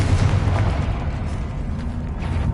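A Confringo blasting spell explodes in Hogwarts Legacy, producing a loud, sustained rumbling burst with heavy low boom that holds strong for the whole moment before slowly easing, close and dominant.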